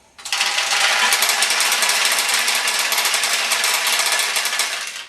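Steel pachinko balls pour steadily out of a Nishijin pachinko machine, making a dense, continuous metallic rattle that starts abruptly and holds at an even, loud level throughout, with no talking.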